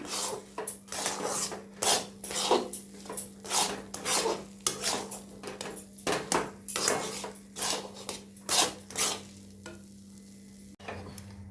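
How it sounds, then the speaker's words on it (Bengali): Chana dal is stirred and scraped around a pan to dry it out for sandesh, a sweet, in rhythmic close-up strokes of a utensil against metal over a faint steady hum. "এইভাবে নেড়ে নেড়ে শুকনো করতে হবে, জল জল থাকলে হবে না।"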